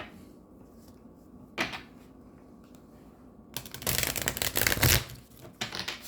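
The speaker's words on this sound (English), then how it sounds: "Let's do a few more shuffles." Tarot cards being shuffled in quiet bursts, a soft riffle followed by a louder, longer run of rapid flicking and snapping near the microphone, with no talking.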